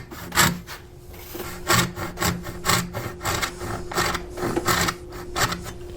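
A hand saw rasps through wood cutting a dovetail joint for a pipe and tobacco box, a steady run of close, rhythmic strokes, about a dozen in quick succession with brief gaps between them.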